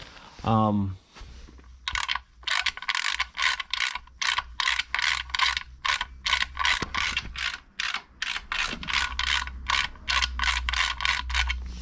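Rapid, steady ratchet clicking in repeated bursts as a wrench works an oil pan drain bolt on a car with a 1.8T engine, close and loud, with a brief voice at the start.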